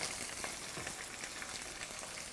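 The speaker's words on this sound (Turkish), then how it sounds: "Şimdi yeşil biberlerimi atıyorum." Green peppers frying in a pan, a steady dense sizzle and crackle filling the whole clip at moderate, even loudness.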